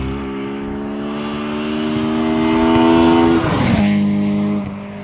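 Honda Civic EJ9 with a B18 engine revving loudly, its pitch climbing steadily toward VTEC before dropping sharply into a lower, steady drone as it shifts, heard from inside the car with no talk.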